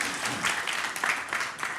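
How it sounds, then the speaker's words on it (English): An audience at a telecom industry debate applauds a speaker, producing a brief, dense, steady patter of many hands that fills the room without a break. "Round of applause for Constantine."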